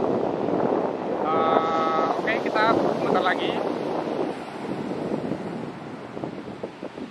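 Sea waves and wind recorded facing the ocean with a Saramonic Blink 500 wireless microphone make a steady, loud wash of surf and gusts. A person speaks briefly over it early on.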